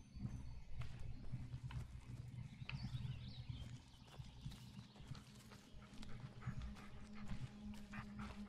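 A dog whimpers and barks faintly amid Blair Witch game background sounds and low rumble, with scattered clicks throughout.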